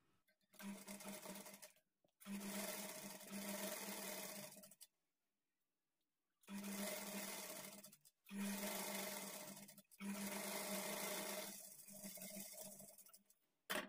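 A sewing machine stitching the edge of a high neck blouse runs in several steady bursts of a few seconds each, separated by short pauses, close and clear without talk.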